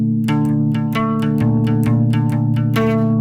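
A bass guitar plays an arpeggio, a run of evenly spaced plucked notes over a sustained ringing low tone, with a chorus-like shimmer and no voices.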